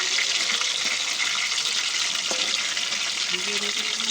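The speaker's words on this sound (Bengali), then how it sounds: "ঢেলে দিচ্ছি পনিরটা তেলে" Paneer pieces fry in hot oil with a loud, dense, steady hiss that runs through the whole stretch, with a faint tap or two partway through.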